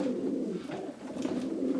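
A Janssen racing pigeon coos softly and continuously at close range, a low rolling throaty murmur with no voices over it.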